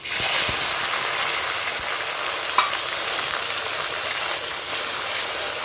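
Chopped onion frying in hot oil with chillies, crushed cardamom and a bay leaf, giving a loud, steady sizzle and hiss that runs continuously, with a faint clink partway through.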